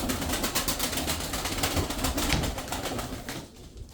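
A flock of tumbler pigeons gives off a dense, continuous rustle and flutter of wings with soft cooing, close and steady for several seconds before easing off at the end.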